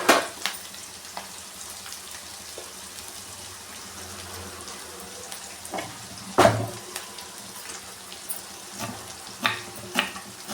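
Onion fries in a pan with a quiet, steady sizzle, interrupted by scattered sharp clinks and scrapes of a spatula, one louder knock near the middle.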